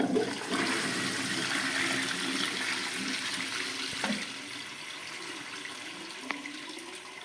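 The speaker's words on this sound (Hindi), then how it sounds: "अब हम इसको कर देते हैं एक बार फुल फ्लश।" A toilet flushes fully, a loud steady rush of water close by that gradually eases as the tank drains.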